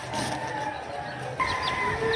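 Backyard chickens cluck softly in short, scattered calls, with faint wing flaps and some light ambient noise around them.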